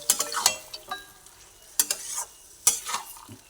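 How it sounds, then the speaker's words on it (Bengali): Watermelon rind curry being stirred in a pan, with scraping spoon strokes in bursts around the start, middle and end over a soft background sizzle; close, no voices. "আবার ভালোভাবে নাড়াচাড়া করে নিলাম"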